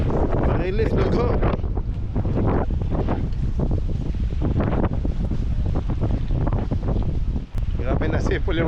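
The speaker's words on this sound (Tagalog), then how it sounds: "Grabe na sipol yung hangin." Strong gusting wind ahead of an incoming typhoon, a loud roaring, buffeting rush with whistling edges battering the microphone almost continuously, and faint voices beneath.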